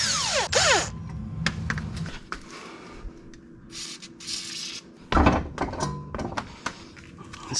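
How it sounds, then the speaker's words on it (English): Tools work loose the lower shock bolt on a Mazda 3 Turbo during an Eibach Pro-Kit lowering job, giving close metallic clanks, thunks and scrapes in an irregular burst with quieter gaps. "now I'm gonna take off the bolt on the bottom of the shock or the suspension."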